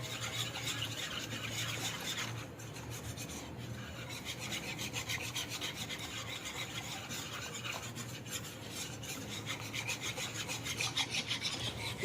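Gram flour and water are stirred together into a batter in a pan, giving rapid, steady scraping and rubbing strokes up close, with a brief lull near the start and no voices.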